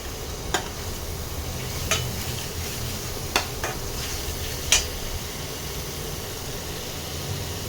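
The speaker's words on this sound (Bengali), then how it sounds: "ভালো করে মশলাটাকে কষাতে হবে।" Bengali spice paste frying in oil in a pan for a tangra fish curry, a steady soft sizzle under occasional sharp scrapes and clinks of a spatula stirring against the metal.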